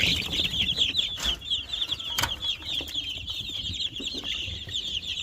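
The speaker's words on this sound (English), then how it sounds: "What's up, little rooster?" Chickens and a rooster on a farm on a cold morning cluck and chatter nearby, with a brief burst of wing flapping and scattered rustling and knocks.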